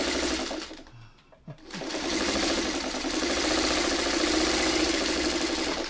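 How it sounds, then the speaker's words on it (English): A sewing machine stitches quilt fabric with a loud, steady mechanical whir and rapid needle rhythm, stopping briefly for a moment of near-quiet before running on continuously. "we sewed it on the right side"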